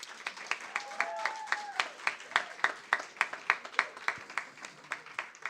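Sparse, rhythmic clapping from a small group at a radio awards ceremony, each clap distinct and fairly quiet, with a faint whistling tone drifting through partway.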